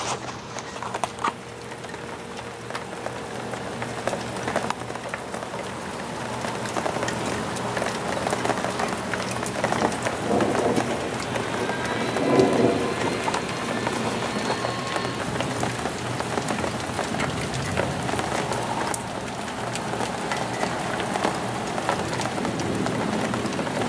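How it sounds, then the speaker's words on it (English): Steady rain falls and patters on surfaces outdoors in warm, wet weather. A continuous dense hiss runs throughout, with no distinct thunder standing out. "If the rain stops, I'll be able to come out."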